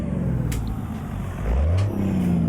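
A game truck engine in American Truck Simulator drones loudly, then climbs sharply in pitch as it over-revs, a rising whine over steady road rumble.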